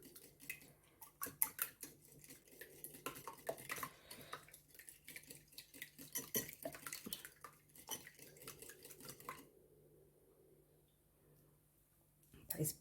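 Red velvet cookie dough being stirred in a bowl, with repeated scraping and clinking of a utensil against the bowl at an irregular pace, fairly close, then a quiet stretch near the end.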